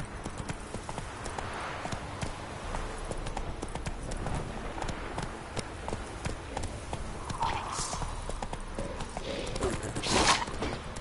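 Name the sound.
horse Roach galloping, from a video game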